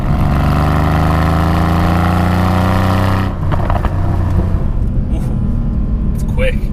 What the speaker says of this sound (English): they've chosen to retain the stock AMG exhaust, which you can hear.